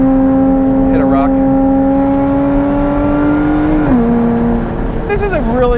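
A Lotus Evora 400 held in second gear on a track, its engine note loud and close, a steady drone holding pitch and then dipping briefly before climbing again as the revs change.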